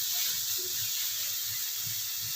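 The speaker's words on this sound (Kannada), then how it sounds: "ಇದು ಮಸಾಲೆ ಎಲ್ಲ ಹಸಿ ವಾಸನೆ ಹೋಗೋವರೆಗೂ ನಾವು ಚೆನ್ನಾಗಿ ಫ್ರೈ ಮಾಡ್ಕೋಬೇಕು." Masala sizzling steadily in a hot pan while being fried for South Indian lemon rice (chitranna), a continuous close hiss with faint stirring scrapes underneath.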